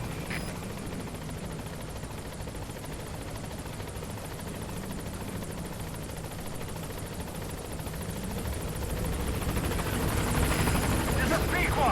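A helicopter arriving in the video game Metal Gear Solid V, heard as a steady dense rotor thrum that slowly grows louder as it approaches, with a voice heard over it.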